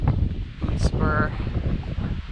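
Wind buffets the microphone on the cloudy summit of Isolation, a steady broadband rush that runs the whole time beneath faint voices.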